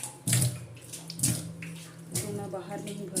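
Water from a tap pours and splashes into a container at home, a steady close rush with intermittent louder gushes.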